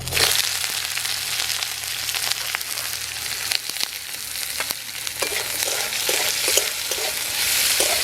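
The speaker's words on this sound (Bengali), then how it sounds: "গরম তেলের মধ্যে তিনটে শুকনো লঙ্কা নিয়েছি এইভাবে ছোট্ট ছোট্ট করে কুচি কুচি করে নিয়েছি দিয়ে দেবো পেঁয়াজ কুচি দিয়ে দেবো" Chopped onion and three dried red chillies fry in hot oil, a continuous loud crackling sizzle punctuated by sharp clicks and scrapes of stirring.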